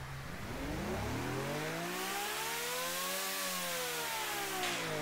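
A 600-horsepower V12 car engine in a video game revs steadily upward, its harmonic whine climbing in pitch before easing back down, loud and close with no talk.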